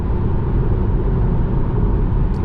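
Steady low tire roar of a Tesla Model 3 Long Range on summer tires cruising at about 100 km/h at night, a constant rumbling drone heard from inside the cabin with no pauses.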